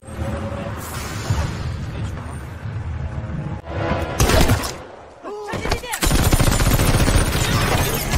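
Gunfire from a film shootout between a gangster gang and Chinese government forces over an arms-smuggling case, loud bursts and sharp cracks mixed with music and effects, with voices heard throughout.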